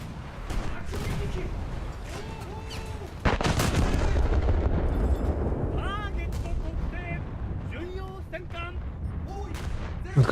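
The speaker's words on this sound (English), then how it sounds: "And I just fired it full salve into the island." Battleship main guns firing a full salvo at an island in a naval video game, a heavy booming report that swells into sustained rumbling blasts and crackling impacts, with faint chirping effects overhead.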